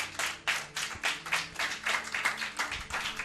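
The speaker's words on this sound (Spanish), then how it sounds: "Le damos un aplauso al Señor." Church congregation clapping in praise during a sermon, a steady rhythmic run of hand claps at moderate loudness with a few voices mixed in underneath.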